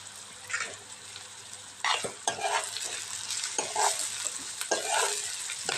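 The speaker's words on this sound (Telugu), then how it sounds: "కొద్ది కరివేపాకు కూడా వేసుకున్నాం" Curry leaves frying in hot oil in a pan, a crackling sizzle with bursts of stirring and spatula scrapes that swell and fade, fairly close and with no talking.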